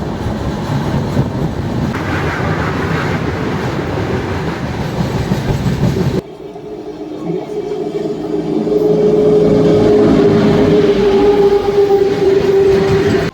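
Tamralipta Express runs through Kolaghat without stopping, giving a loud, continuous rumble of rolling stock that dips abruptly midway, then swells back with a thin sustained whine over the rattle.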